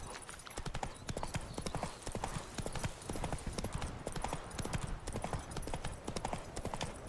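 Horse hooves trot in a steady clip-clop rhythm throughout in The Witcher 3, close and even, with a faint whinny and no talk over them.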